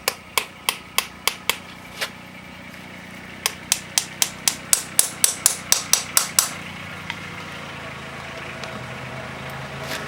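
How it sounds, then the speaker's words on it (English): A farrier's driving hammer, also called a cavalry hammer, taps nails while shoeing a horse: a quick run of evenly spaced metallic strikes, a brief pause, then a longer rhythmic series, close and loud. "The hammer is called a driving hammer."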